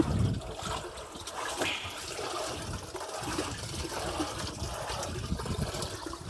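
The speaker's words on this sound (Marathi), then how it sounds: "टाक पटकन, ओतून टाक पाणी." Water is poured into a jeevamrut organic fertilizer mixture, making a continuous splashing gush at close range that stays fairly even throughout.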